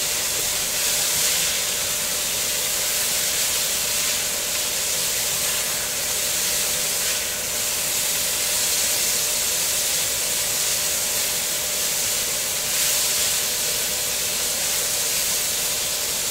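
Chicken stir-fries in a wok with a steady, bright hiss of sizzling that holds loud and even for about sixteen seconds, with faint swells and no talk.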